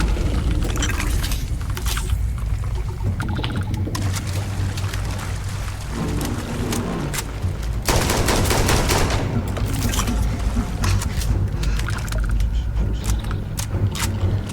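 Rapid bursts of Starfield gunfire crackle continuously over a dense, rumbling game soundscape, loud and sustained, with a sharper, heavier volley near the middle.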